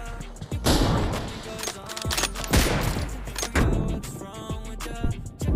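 Rapid bursts of gunfire from the battle royale game PUBG, with an M24 sniper rifle in play, crack out loud and close in repeated volleys, layered with busy game effects and a low rumble throughout.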